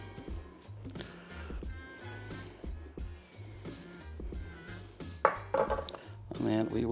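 A knife cuts peppers on a board in a series of irregular, close thuds and knocks. Clatters and faint handling noise mix in as the cutting goes on.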